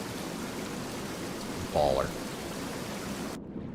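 A waterfall rushes in the Tainted Grail: The Fall of Avalon video game as a steady broadband roar of falling water that cuts off abruptly near the end, with a brief spoken remark over it.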